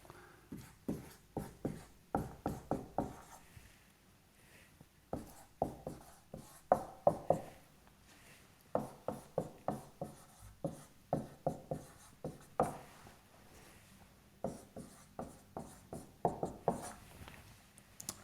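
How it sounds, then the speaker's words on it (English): Chalk or marker writing out an equation on a board while solving a differential equation for a series RLC circuit, heard as rhythmic bursts of short scratchy strokes with brief pauses between groups, close and fairly quiet, with no talk. "So I'm going to write the term in the brackets."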